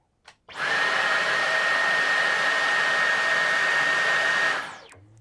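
A Dyson V11 cordless stick vacuum whirs at full boost with a steady high-pitched whine, running loud for several seconds before spinning down.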